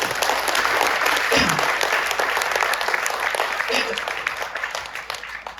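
Sustained audience applause at a K.C. Chhabra RCM business seminar after the product Gamma Original is named, a dense steady clapping that holds strong throughout and tapers slightly near the end.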